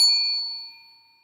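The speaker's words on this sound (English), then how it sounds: "Inappropriate bell." A single bright bell ding rings out sharply, then its clear metallic tone slowly fades over about a second with nothing else heard.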